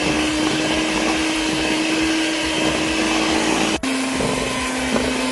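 Electric mixer beating ube cake batter with fresh milk, oil and butter, a loud steady motor whine that cuts out for a moment near the end and then resumes.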